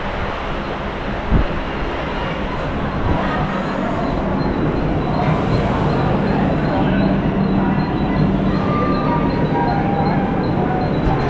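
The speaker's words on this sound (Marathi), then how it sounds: "पूर्ण न्यू ट्रेन भेटली आपल्याला" A new Konkan Railway train running from Bandra to Madgaon gives a loud, continuous rumble with a low roar and rattling that builds slightly and stays steady, heard from close by.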